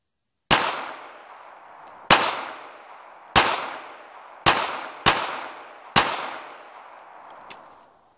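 Six sharp, loud gunshots from a Smith & Wesson Bodyguard 380 pistol fired at a target about 12 feet away, spaced irregularly about a second apart, each with a short decaying ring, no talking.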